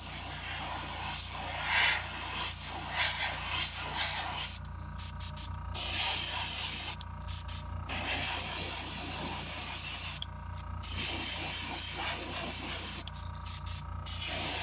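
An airbrush sprays transparent orange paint onto custom crankbait lures in a workshop, giving a soft steady hiss that starts and stops in short bursts over a low background hum.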